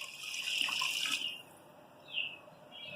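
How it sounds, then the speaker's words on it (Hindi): Water is poured into a pot of meat for aloo gosht, a bright splashing gush for about a second, then a short second pour. "अब इसके अंदर हम डालेंगे पानी।"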